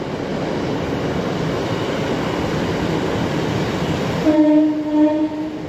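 A two-car East Midlands Railway diesel unit, class 156 leading and class 158 trailing, rushes past at speed with a steady broadband roar, then gives a loud two-tone horn blast near the end.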